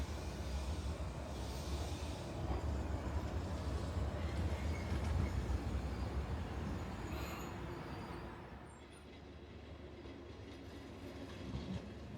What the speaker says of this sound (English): we waited a little while for the sightseeing train to arrive